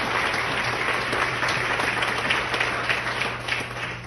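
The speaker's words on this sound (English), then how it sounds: "The Coopers is giving a round of applause" Gala audience at a motivational event giving a warm, sustained round of applause, dense clapping at an even level that eases slightly toward the end over a faint low hum.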